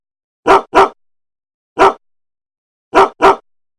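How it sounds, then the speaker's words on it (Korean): Five sharp dog barks in three groups: a quick double bark, a lone bark, then another double, loud and isolated with silence between. "실행하면 강아지 음성이 바로 들리게 됩니다"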